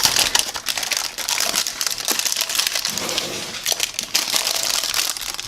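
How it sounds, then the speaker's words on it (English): Parchment paper lining a pan crinkles and crunches loudly as a crumble crust for keto blueberry bars is pressed into it by hand, in close, irregular bursts of rustling with no talking. "it's loud because there's parchment paper down"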